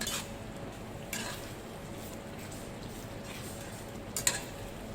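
A spoon stirs white pepper into a rich gravy in a pot, giving a few clinks and scrapes against the metal over a steady background hiss, with a brief cluster of taps near the end.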